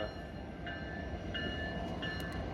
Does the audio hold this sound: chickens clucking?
no